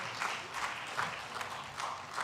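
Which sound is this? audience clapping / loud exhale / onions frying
audience clapping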